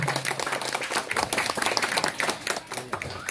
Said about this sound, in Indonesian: Mohon tepuk tangan sekali lagi untuk kita semua.